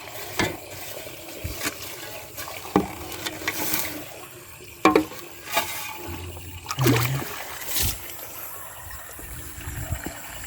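Water drains away in a continuous trickling stream with intermittent splashes and gurgles, moderately close and without talk.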